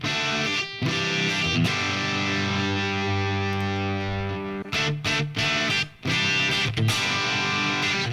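An electric guitar played through a TONEX JCM 800 amp model set to reduced gain rings out in sustained, crunchy distorted chords with short breaks between them; no talking.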